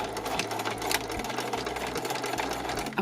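A straight sewing machine stitching along fabric, a loud close continuous mechanical whir with a fast steady rhythm, briefly pausing and restarting.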